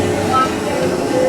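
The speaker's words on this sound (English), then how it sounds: "our train is now slowly pulling into our Nairobi station" A safari park tour train, the Busch Gardens Serengeti Express, slowly pulling into its station, a low steady rumble and faint hum running beneath a man's announcement.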